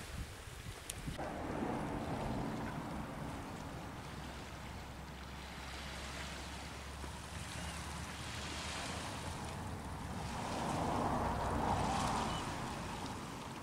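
Outdoor ambience by a lake near Ullapool, Scotland, with a steady low rumble of wind and gentle lapping or washing sounds, no voices.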